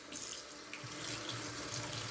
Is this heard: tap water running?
yes